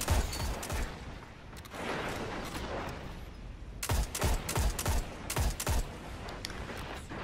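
Rapid bursts of gunfire in a shooter video game, with a sniper among the weapons: a sparse opening shot, a lull of ambient noise, then a tight cluster of sharp, close shots followed by a few more.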